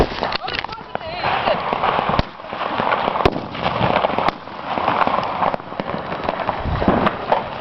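Firecrackers and New Year fireworks crackling and popping with sharp sporadic bangs over a continuous noisy roar, with people shouting and talking excitedly throughout.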